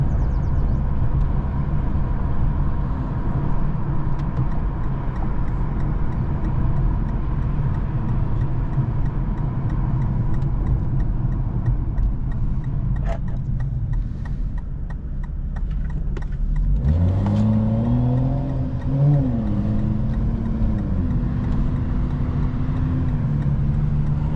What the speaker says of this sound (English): This car's taking a minute to warm up right now.